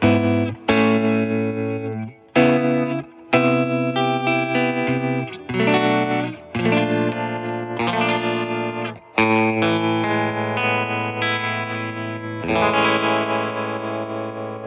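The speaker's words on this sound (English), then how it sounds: "Bit of reverb and vibrato." Electric guitar chords and melodic phrases from a T-style guitar with flame maple top and chambered alder body, drenched in reverb with a wavering vibrato, playing steadily and loudly with brief pauses between strums.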